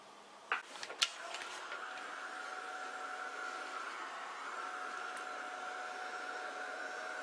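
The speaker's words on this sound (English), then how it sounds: "I might hurry it up with the heat gun." A heat gun drying paint on a scrapbook page blows a steady, fairly quiet whirring hiss for several seconds, after a few brief handling clicks at the start.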